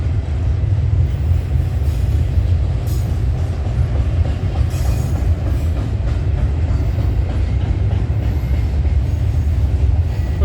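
A freight train rumbles steadily past trackside at night, with the dense roar of wagons and clickety-clack of wheels holding loud and continuous throughout, with no talking.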